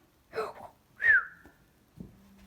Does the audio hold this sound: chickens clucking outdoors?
no